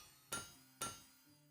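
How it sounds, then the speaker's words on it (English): Two sharp metallic hammer strikes on hot iron at an anvil in the blacksmithing game Blacksmith Master, about half a second apart, each ringing briefly before fading, with a faint tonal hum between them. "So he's going to grab a chunk of iron, I'm guessing, put it in the fire, take it to the anvil,"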